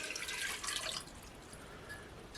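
Water is poured into a pot to start a syrup for honey cookies, a brief, soft splashing stream that fades after about a second, followed by quiet liquid trickling.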